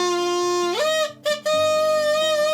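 A hodugi, a Korean bark whistle made from a thick, long shoot, is blown, producing a buzzy, reedy drone. It steps up in pitch, breaks off briefly, then resumes at a steady tone, close and loud.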